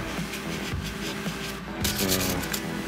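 Rub 'n Buff is worked by hand onto a Star Wars Gonk droid prop, giving a steady close scratchy rubbing that swells slightly near the end, with no talking.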